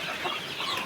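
A chicken clucks briefly at close range, a short burst of soft clucking over a steady background hiss with no voices.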